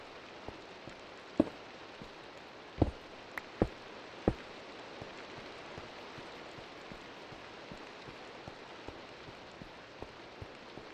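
Minecraft rain falls steadily as a soft, even hiss, with occasional sharper drips and taps standing out, and no voices over it.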